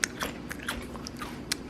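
Crisp bites into Pringles chips, a few sharp crunches scattered over nearly two seconds, close and fairly quiet with no talking.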